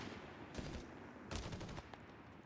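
Machine gun fire in the Company of Heroes 3 video game: two loud bursts of rapid automatic shots, the second longer, over a dense background of battle noise.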